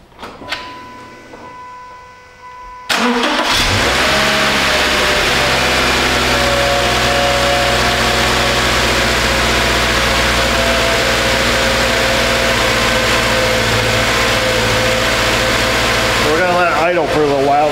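A cold Subaru engine starts and settles into a high idle in a repair shop, a loud, steady droning hum running without a break after a few quiet seconds.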